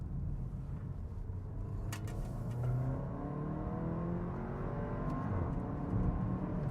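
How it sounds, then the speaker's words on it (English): Porsche Macan with PDK gearbox accelerating hard, engine rising through the gears, with a brief sharp exhaust crackle at an upshift near two seconds, heard steadily from inside the cabin at moderate volume. "The exhaust bark on the upshift is really nice"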